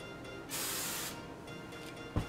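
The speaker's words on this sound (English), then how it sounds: "Now I'm gonna use some hairspray. I'm just using the Tresemme 2 spray hairspray" A short burst of TRESemmé hairspray mist onto hair, a soft steady hiss lasting about half a second, close and alone, followed by a quiet rustle and a small bump.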